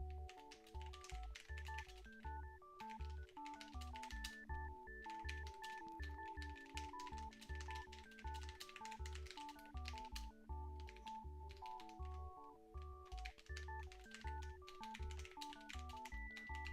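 Someone types on a computer keyboard while writing a book, giving a rapid, continuous patter of keystrokes over prominent melodic background music.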